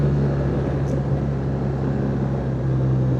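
Steady motorcycle engine drone in third gear on a winding Spanish country road, a constant low hum with wind rush, loud and close throughout without a break.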